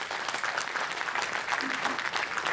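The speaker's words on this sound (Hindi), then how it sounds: "मैं चाहूंगा कि हम सब कलाकारों के लिए एक बारी जोर से तालियां बजाएं" An audience claps for the performers at a cultural programme, a dense, continuous round of applause at moderate volume, unbroken for the whole stretch.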